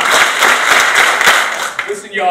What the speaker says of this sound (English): If you're listening, clap 5